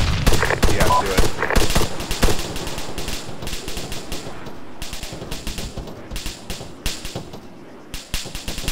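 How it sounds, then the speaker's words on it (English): Suppressing gunfire in a military video game, long bursts of rapid shots crackling loudly at first, then sparser volleys and single cracks, with voices talking underneath. "With your permission, sir, I'll put up a bit of fire."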